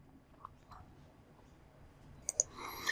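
A computer mouse clicks a few times during setup of the TrustHiJacker website-ranking software, sharp and faint over a quiet room hiss, with a tight double click near the end.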